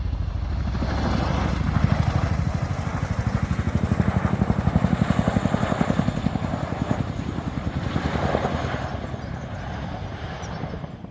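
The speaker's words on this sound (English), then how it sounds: "Bonus Chinook footage there." A twin-rotor Chinook helicopter flies overhead near Broadway Tower in the Cotswolds, its loud, steady, rapid blade thudding and engine roar filling the whole stretch and holding strong throughout.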